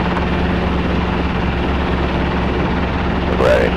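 A Robinson R22 helicopter hovering makes a loud, constant rotor and engine drone with a steady throbbing pulse, heard close up, and a brief higher whine rises near the end.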